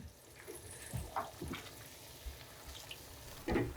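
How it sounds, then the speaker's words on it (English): Water splashes and trickles into a hot karahi of chicken gravy, a soft continuous wash of liquid with faint sizzling, ending in a slightly louder splash. "Add 1 cup of water for the gravy."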